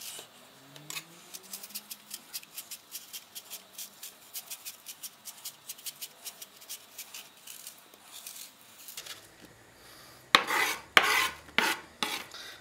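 A medium apple being peeled of its skin with a kitchen peeler, giving a steady run of quiet rhythmic rasping strokes, then a few louder, harsher scrapes near the end; no talking.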